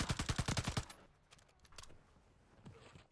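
Video game gunfire rattles off in a quick automatic burst of about eight shots at the start, then a few faint scattered clicks and thuds follow.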